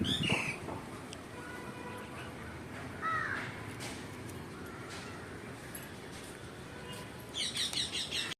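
Outdoor bird calls ring out in warm sunlight near a fruit tree, an Asian koel calling among crows' caws and other chirps, with a few distinct calls rising over steady ambient noise and a burst of chatter near the end.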